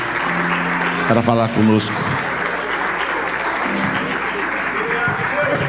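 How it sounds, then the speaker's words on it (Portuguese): Church congregation clapping during a worship service, a steady wash of applause running throughout, with a speaking voice and a brief sung or amplified passage rising over it early on. "Vamos receber o servo de Deus aplaudindo ao Senhor Jesus"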